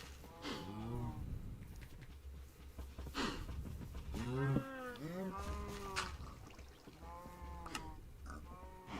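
Several cows in a video game moo repeatedly, their drawn-out calls overlapping and echoing one after another over a low background hum.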